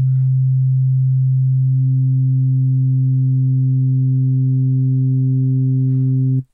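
A steady FM synthesizer tone, low and pure at first, then gaining brighter overtones as a second operator modulates the first, holding evenly for several seconds before cutting off.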